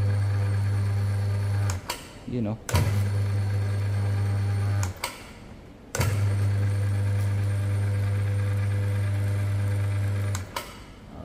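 A single twisting meat grinder machine's electric motor runs with a loud, steady low hum in three long stretches, cut by brief pauses and clunks between runs; a voice speaks briefly.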